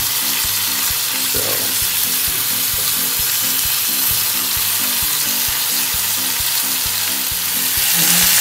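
Chicken shashlik pieces sizzling steadily in a hot frying pan as they are flipped one by one, with a constant loud hiss and a regular rhythm of soft knocks and scrapes throughout.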